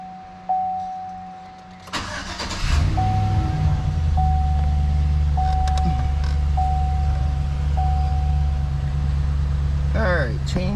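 A Chevrolet-style 2500 HD pickup truck engine is cranked and fires up after an oil change. A warning chime dings repeatedly beforehand, then the starter catches and the engine settles into a steady, loud idle close by.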